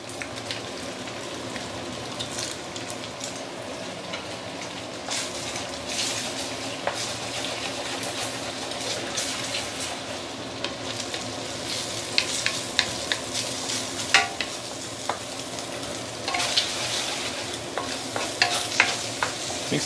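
Egg stir-fried in a pan, with glass noodles to follow, a continuous sizzle under repeated spatula stirs and scattered clinks against the pan, close and steady, no talking.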